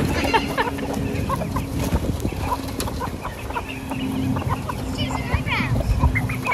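Many chickens and a rooster cluck together while feeding in a dense, continuous chatter, with scattered louder calls standing out close by throughout.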